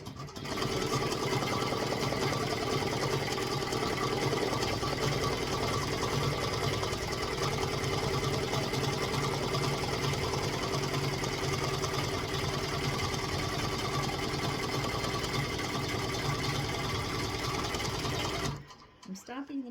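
A Redline embroidery machine runs steadily while stitching a design, a dense continuous mechanical whir with rapid needle chatter that holds loud and even before cutting off abruptly near the end.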